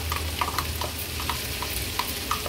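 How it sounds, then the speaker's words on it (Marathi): A crushed paste of ginger, garlic, chili and coriander fries in hot oil for a seafood thali. A steady close sizzle runs throughout, broken by light scraping taps of stirring. "आता आलं, लसूण, मिरची, कोथिंबीरचा जो क्रश आपण तयार केलाय तो तेलावर घालूया"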